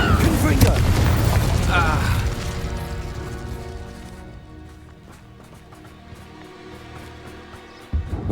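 Fire and blast spells cast in Hogwarts Legacy: a loud, booming burst with crackling rumble in the first two seconds, decaying into a lingering low roar and debris, then a sharp thump near the end.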